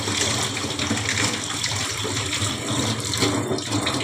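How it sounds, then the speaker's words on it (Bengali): Running tap water splashing steadily over market vegetables being rinsed in fresh water, a continuous near gush without pauses or voices. "আর একবার একটু ফ্রেশ জল দিয়ে আমি ধুয়ে নিলাম"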